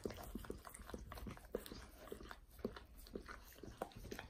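Two dogs race to lick peanut butter, producing close, rhythmic wet lapping and smacking sounds in quick repeated bursts, with no speech over them.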